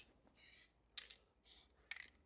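Aerosol spray paint hisses across a stencil in two short, steady bursts, each followed by faint handling clicks and rattles, close up with no talking.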